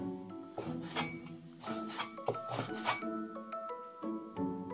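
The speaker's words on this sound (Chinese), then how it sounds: "接下来我们再来切香菇" A knife slicing shiitake mushrooms on a cutting board, heard as a run of quick close rasping cuts and taps in irregular rhythm, with some clinking of kitchenware in the background.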